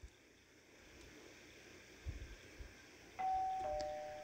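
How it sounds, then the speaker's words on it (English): A doorbell chime sounds in the video game Danganronpa Another, two clean electronic tones ringing out after faint low thumps and near silence. "Ding dong."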